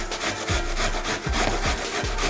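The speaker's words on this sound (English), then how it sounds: "You're just gonna take your box grate and just shred it." Food being shredded on a metal box grater for a shepherd's pie, giving repeated rasping strokes in a steady rhythm, close and loud with no voices.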